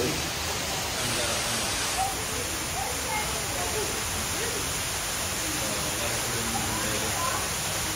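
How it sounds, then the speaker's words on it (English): Heavy rain pours down in a dense, continuous hiss that stays steady and loud throughout, with faint voices underneath. "So it's crazy raining."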